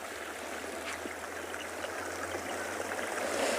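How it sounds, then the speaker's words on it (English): Steady, close rushing splash of a small waterfall of brown tannin-stained water at Stony Point, a continuous broadband wash with no breaks or talking. "never thought that we'd have our own personal waterfall down here at Stony Point"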